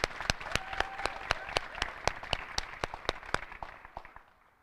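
Applause at a school graduation ceremony, with a few distinct hands clapping in a sharp, even rhythm over a softer crowd that fades out toward the end.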